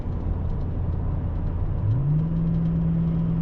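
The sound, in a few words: truck passing by on highway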